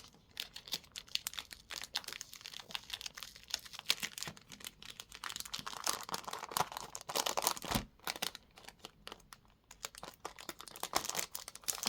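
Paper envelopes being opened and handled close up during an unboxing, with quiet crinkles, rustles and small tearing sounds in irregular bursts, no talking.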